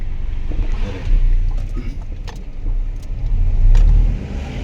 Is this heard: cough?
no